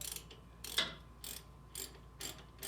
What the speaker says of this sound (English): we're tightening up the calipers again that we broke loose before